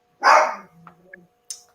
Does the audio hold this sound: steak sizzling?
no